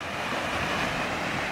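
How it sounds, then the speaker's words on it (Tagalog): Ocean waves surging and crashing against a rocky Mindanao shoreline, a steady loud wash of surf with wind buffeting the microphone throughout. "Grabe yung alon."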